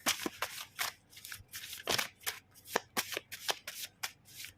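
Tarot cards shuffled by hand in a rapid, irregular run of crisp riffling bursts, close and clear with no voice over them.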